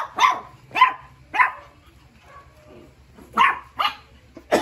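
Dogs barking at a welcome party, several sharp separate barks in two bursts, three, a pause, then three more, loud and close over a low background hum.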